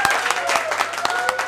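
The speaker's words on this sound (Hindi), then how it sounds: "तो एक जोरदार ताली बजाकर स्वागत" An audience claps to welcome a singer at a song launch event, a burst of dense, continuous applause that carries at moderate loudness across the whole short stretch.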